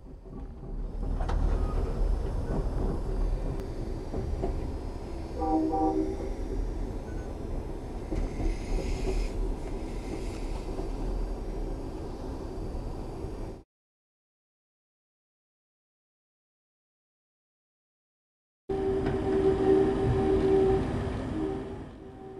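Sunset Limited passenger train pulling into El Paso, a long steady rumble of rolling cars with brief wheel squeal, cutting out abruptly partway and returning loud near the end.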